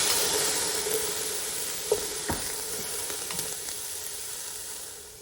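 Vegetables for a turkey pumpkin chili cook in a pan with a little water instead of oil, giving a steady soft sizzle and hiss with a few faint clinks as they are stirred.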